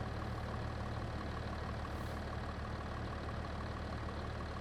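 A steady, constant tractor engine drone in Farming Simulator 22 hums throughout, low and unchanging, like a motor idling at a distance.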